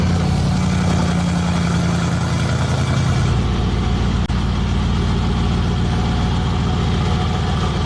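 Mercedes-AMG G63 with a modified exhaust idling indoors, a loud, steady low engine grumble that drops to a smoother, lighter idle partway through, with one sharp click.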